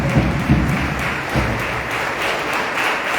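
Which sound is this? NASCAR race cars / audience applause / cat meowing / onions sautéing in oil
audience applause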